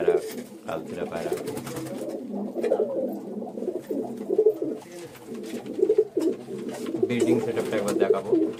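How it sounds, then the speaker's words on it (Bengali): Close, continuous cooing from a loft of Fulsera and Kalsera pigeons, many birds calling at once in a rumbling layered murmur, with a voice speaking intermittently over the flock. "এই ফুলসেরা পায়রা, কালসেরা পায়রা"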